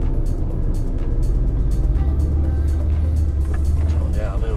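A van's engine runs steadily in first gear, a loud low rumble with light rattles and clicks on top, while voices talk close by.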